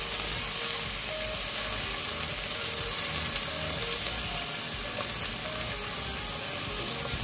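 Tomatoes sautéing with garlic and onion in a pan give a steady, close sizzle and crackle that runs the whole time, with soft stirring scrapes mixed in and no voices.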